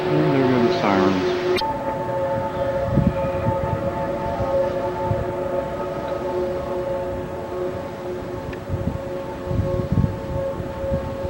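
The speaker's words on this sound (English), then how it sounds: "And there go the sirens." Tornado warning sirens sound in Hamilton City during a storm with flooded roads: a rising wail at first, then a sustained tone carrying on under rumbling background noise.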